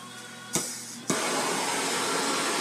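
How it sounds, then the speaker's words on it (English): A MAP gas torch ignites with two sharp pops and settles into a steady, loud roaring hiss of flame while heating a copper gasket for annealing, the broadband rush continuing unbroken after the second burst. "We got some map gas here."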